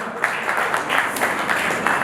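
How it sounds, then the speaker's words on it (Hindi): An audience claps for a newly appointed club president at a news event honouring Covid-era heroes, a brief patch of moderate applause with uneven, pulsing bursts of clapping. "एक बार इनके लिए जोरदार तालियां।"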